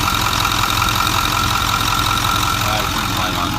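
Ford 6.4 diesel engine running with excessive blow-by, a steady loud mechanical drone with a rough knocking texture that holds evenly throughout, close to the engine.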